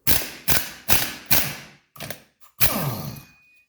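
Impact wrench on brake rotor hub bolts of a 1979 Mercedes 300SD, bolts set with blue threadlocker: four loud, close ratcheting bursts in steady rhythm, then a shorter burst and a longer final run that fades out.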